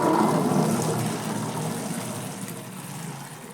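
Hot water and boiled peas poured through a perforated plate make a steady rushing splash that slowly eases off, close and alone.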